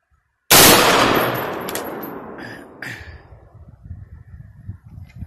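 A single loud, close rifle shot from a .22 Nosler cracks out at an outdoor range, its blast decaying into a long rolling echo with faint rustling afterward.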